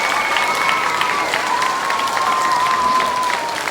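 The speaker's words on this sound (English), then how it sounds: "Let's give him a big round of applause." Loud, sustained applause from a school assembly crowd honoring a school board member, a thick continuous roar of clapping close by, with a high whistle-like tone drifting through it.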